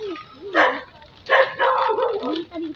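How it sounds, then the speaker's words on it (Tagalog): Dogs bark a few times along a rural footpath through farm fields, short sharp yelps in separate bursts at moderate distance, with no one talking over them. "May mga aso dito."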